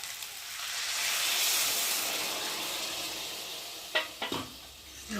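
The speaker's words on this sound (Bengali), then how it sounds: "এখন আমি পরিমাণ মতো জল দিয়ে দেবো" Water poured into a hot pan of egg pulao produces a soft, steady sizzling hiss that swells and fades over several seconds, followed by a few brief stirring knocks near the end.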